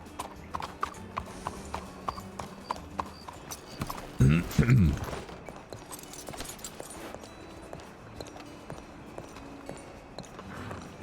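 Hooves of a horse clip-clop at a walk in the Red Dead Redemption 2 game world, steady soft beats running through the whole stretch, with a brief louder burst of movement near the middle and faint talk underneath.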